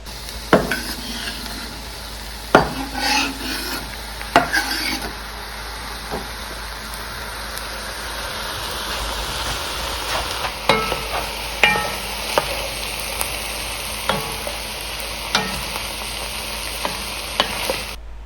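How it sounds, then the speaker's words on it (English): Tomatoes, onions, bell pepper and celery sizzle in a cast iron pan while a utensil stirs and scrapes them, with sharp clacks against the pan at intervals over a continuous close frying hiss, no talk. "So I'm going to add the tomatoes now that are on my cutting board and let that cook together"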